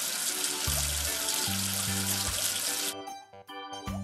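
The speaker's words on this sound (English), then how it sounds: "Wash away the soap with water." Water runs steadily from a tap to rinse soap off in a cartoon hand-washing scene for kids, a bright hissing stream under simple musical tones that cuts off near the end.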